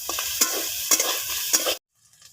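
Onion, peas, crushed ginger-garlic and grated carrot stir-fried in oil for a momo filling: a close sizzle with three sharp scraping spatula strokes, then a sudden cut to near silence.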